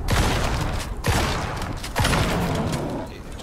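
Shotgun blasts fired at a polar bear in the survival video game Icarus, three loud booming shots spaced about a second apart, each with a broad crack and decaying rumble, close and dominant.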